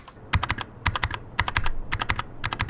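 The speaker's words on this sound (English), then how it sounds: "Here is a keycap with no bumper underneath to silence the key bottoming out." A mechanical keyboard keycap with no bumper underneath bottoms out in quick repeated bursts, sharp close clacks in groups of four or five with short pauses between.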